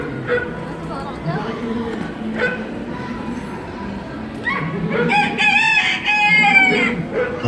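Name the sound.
rooster crowing on the Epcot Living with the Land ride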